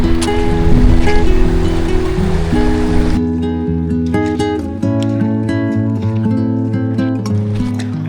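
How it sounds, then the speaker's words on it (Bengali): Rushing river water at Odlabari in the Dooars roars loud and steady for about three seconds, then continues as a lower, softer wash with some faint tonal sounds layered over it. "কারণ নদীর প্রচুর আওয়াজ এখানে।"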